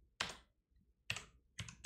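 Three short bursts of keystrokes on a keyboard in a quiet room as a filename is typed into a phone terminal, each cluster of clicky taps separated by brief silences.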